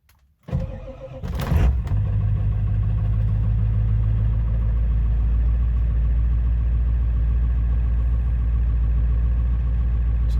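A Ford 7.3 Powerstroke diesel engine cranking briefly, catching and settling into a steady, loud, rumbling idle that continues evenly up close.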